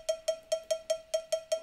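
A small cowbell in an FL Studio cumbia pop beat strikes eight evenly spaced, bright metallic clanks at a brisk tempo, played alone and fairly quiet.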